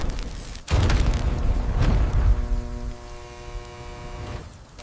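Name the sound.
depth charge explosions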